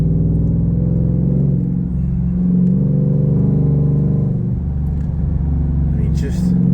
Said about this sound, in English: It just downshifts on its own.